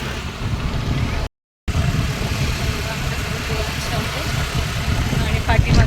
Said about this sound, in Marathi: आता आम्ही लोकांनी गाड्या घेऊन निघालो आहोत फिरायला जाण्यासाठी.